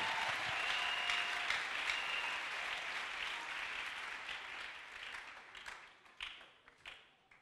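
A church congregation at a French-language service applauds the Lord in dense, sustained clapping that thins out and fades toward the end, heard slightly distant in a large room.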